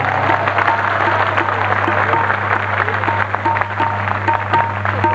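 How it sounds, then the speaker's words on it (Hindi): An audience claps at a Shrimad Bhagwat Katha religious discourse: sustained, dense applause with a steady low hum beneath, continuous and fairly loud throughout. "देखें कितनी जोर से ताली बजाते हैं"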